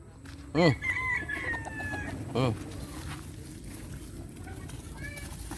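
A rooster crows twice nearby amid clucking hens, the crows loud and harmonic, with background farmyard noise.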